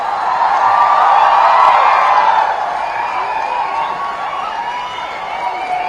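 An audience at the ICAI convocation 2026 ceremony for new chartered accountants shouts and cheers in a broad, continuous roar that swells early and then settles into a steadier hubbub.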